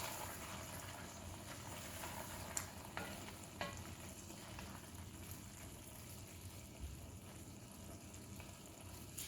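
Curry ingredients stirred in a pan for a red coconut chicken curry, a steady sizzling fry with continuous scraping and stirring plus a few sharp clinks of the utensil, fairly close and alone.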